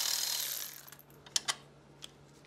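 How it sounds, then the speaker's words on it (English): A ratchet works on the 18 mm nut holding a seat belt to the bottom seat frame of a Tahoe, giving a short run of faint, quick clicks after a brief softer rustle. "remove the 18 millimeter nut holding the seat belt to the bottom seat frame"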